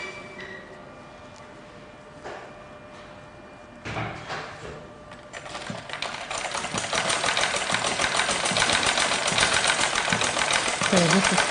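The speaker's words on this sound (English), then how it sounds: "So I have to be sure that I'm not sewing on the rope that I" A sewing machine stitches fabric alongside an inserted rope, starting after a few quiet seconds of faint handling noise and then settling into a steady, rapid mechanical whir that holds to the end.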